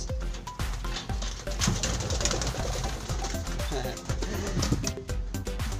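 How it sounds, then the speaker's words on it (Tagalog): Pigeons coo in low, throaty, repeated calls amid a busy background of rustling and clatter, moderately close and fairly quiet. "Magandang ibon din yan mga kalapatids"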